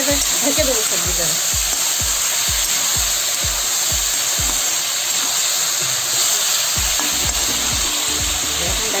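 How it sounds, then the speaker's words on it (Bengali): Ridge gourd, flat beans and potato with turmeric are stirred in a hot pan, steady sizzling overlaid with a regular rhythm of about two scraping strokes per second, close and continuous throughout. "নাড়িয়ে ঢেকে দেবো সবজিটা।"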